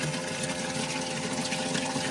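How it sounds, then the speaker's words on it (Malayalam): An aeration pump runs steadily in a boat's water tank, circulating the water with a continuous close buzzing hum and wash of bubbling water, heard alone. "ഇത് എയറേഷൻ ചെയ്ത് വെള്ളം സർക്കുലേറ്റ് ചെയ്തുകൊണ്ടിരിക്കും"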